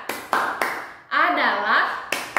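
Rhythmic hand claps for the Indonesian clapping game "tepuk senyum", a few crisp claps in a quick pattern with someone speaking between them.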